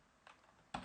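Quiet keystrokes on a computer keyboard while entering a terminal command: a soft tap followed by a sharper pair of clicks, close and faint with no talking.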